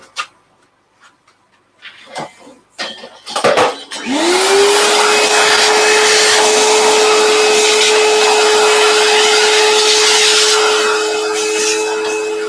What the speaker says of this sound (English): I'll just have a quick vacuum.